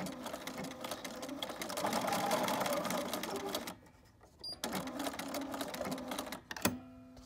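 A sewing machine top-stitches a ribbon edge onto a pillow cover. The motor whirs steadily for several seconds, stops briefly, then starts again for another run of fast stitching, with no voices.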